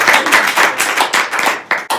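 A small group applauds at a gathering, close and loud, with distinct irregular hand claps pulsing together and a brief dip just before the end.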